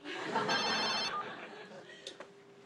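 A mobile phone rings indoors with a short, bright electronic ringtone burst lasting about half a second, followed by quieter room sounds and brief voices.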